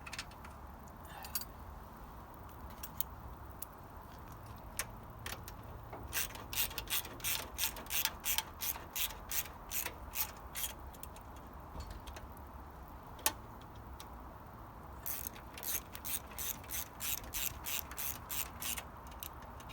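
A hand ratchet tightens bolts on a Harley Davidson Heritage Softail toolbox, giving bursts of rapid close clicking in quick rhythmic runs separated by short pauses.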